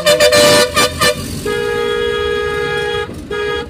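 Several quick clattering knocks open, then a car horn in busy traffic gives one long sustained blast and a shorter honk, loud and close over steady road rumble.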